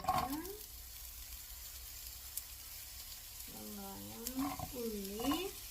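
Onions tipped into a pan with fennel seeds sizzle and crackle steadily while someone talks over the frying, her voice rising and falling above the hiss.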